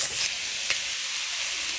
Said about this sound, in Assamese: এতিয়া কেৰাহীটো গৰম হৈ গ'ল, মাংসখিনি দি দিওঁ ইয়াতে